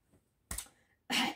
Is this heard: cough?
yes